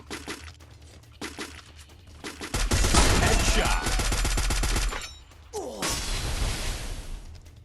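Automatic weapons fire in Free Fire, a mobile battle-royale game, beginning with scattered distant shots and building into loud, sustained rapid bursts that break off briefly and then resume.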